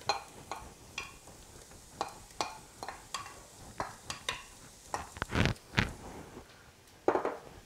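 Onions and poblano peppers cook in a pan over medium-high heat, a soft sizzle under repeated stirring clicks and scrapes of a spoon, fairly close and quiet, with no talking.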